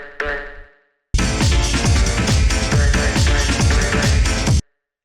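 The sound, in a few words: vocal stab sample in jungle rave track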